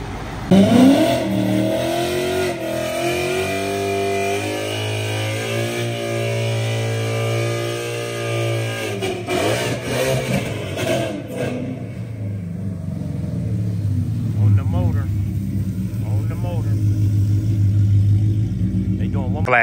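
A street race car's engine holds a loud, sustained drone that rises in pitch as it accelerates, then drops away and fades into a distant rumble, while someone talks excitedly over the scene.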